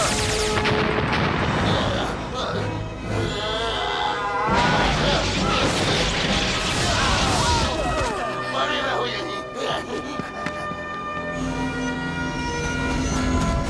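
A Trans Blaster fires in a Power Rangers Lost Galaxy action scene: sharp blasts and crashing impacts in a loud, busy mix with dramatic music and voices.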